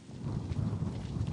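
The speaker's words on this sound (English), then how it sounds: "And so the drizzle is getting a little heavier here." Drizzle grows heavier during an outdoor secondary-school football match between Trinity College East and Malick Secondary in Trinidad and Tobago, a steady, dense hiss of falling rain with no voices.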